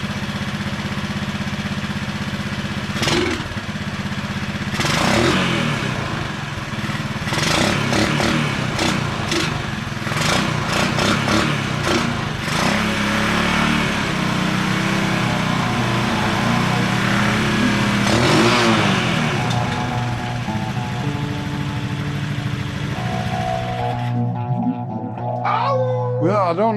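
The rebuilt engine of a 1980 Honda ATC 185 ATV sputters and catches, then revs in rough repeated bursts before settling into an uneven idle close by.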